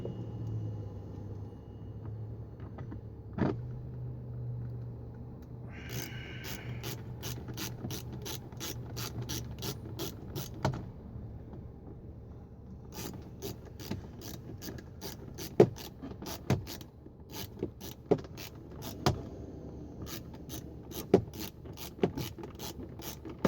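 A ratchet drives Torx screws into an Audi door panel, with long runs of rapid, even clicking in several bursts and brief pauses between them, close up over a low background hum.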